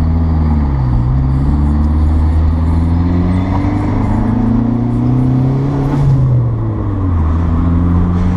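A Dodge Neon SRT-4 engine pulls hard from inside the cabin as it accelerates onto a freeway, loud and steady, its pitch climbing through gear changes with brief dips between shifts.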